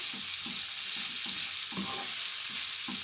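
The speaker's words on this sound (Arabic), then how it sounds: "خلاص كده الكبده كده خلاص استوت، والفلفل معاها كمان اخد يا دوبك شويه تشويحه كده حلوه" Chunks of Alexandrian-style liver and peppers sizzle steadily as they finish sautéing in a pan, with a constant frying hiss and soft periodic stirring scrapes close by, no voices.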